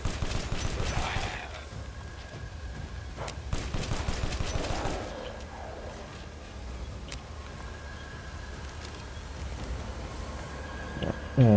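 Pistol shots in Resident Evil Village ring out as sharp cracks, first in a rapid cluster and then as isolated single shots, amid game ambience with a brief closing burst.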